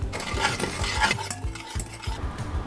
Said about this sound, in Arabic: نحطهم على النار ونضل نحرك فيهم.